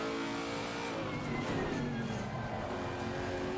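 A GT3 race car in Assetto Corsa Competizione drones loudly and continuously, the engine note rising and shifting in pitch as it revs, heard close and alone without talk.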